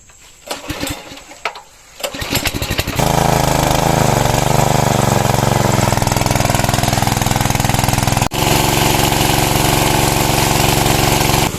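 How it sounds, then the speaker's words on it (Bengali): Motor-driven water pump set up to drain a canal for fishing: a few sputtering pulls and bursts, then the engine catches and runs at a loud, steady drone, with one brief dropout. "মেশিন সেট করা শেষ এবার স্টার্ট দেওয়া হবে"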